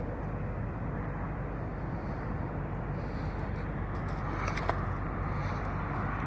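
Steady distant freeway traffic in San Bernardino, California, whirring at night as a continuous broadband roar with no breaks, moderately loud and unchanging throughout.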